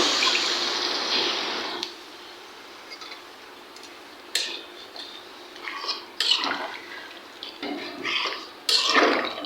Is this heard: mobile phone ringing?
no